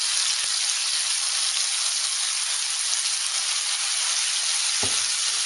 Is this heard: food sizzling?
yes